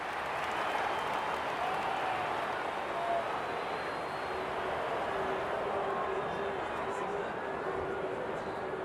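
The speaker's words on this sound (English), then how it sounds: "Crowd noise tells you all you need to know." A dense, steady roar of a large video game crowd cheering at an Australian rules football match, Brisbane Lions versus Carlton, loud and continuous throughout with no pauses.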